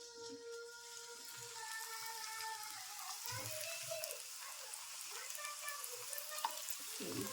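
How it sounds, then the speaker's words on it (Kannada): Small rava triangle snacks fry in hot oil, making a soft, steady sizzle and crackle with scattered bubbling pops. The sound is faint and continuous, close by, with no voices. "ಈಗ ನೋಡ್ರಿ ಒಂದೊಂದಾಗಿ ಎಣ್ಣೆಗೆ ಬಿಡ್ತೀನಿ ರೀ"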